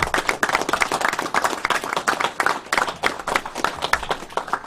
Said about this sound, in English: The man deserves a round of applause